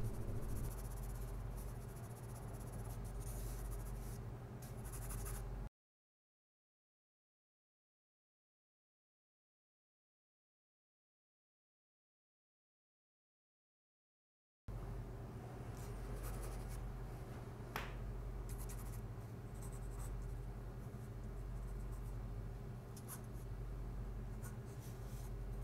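A pencil scratches across paper during a life figure drawing session, with steady close-up strokes and hatching, broken by a long stretch of silence midway before the sketching resumes.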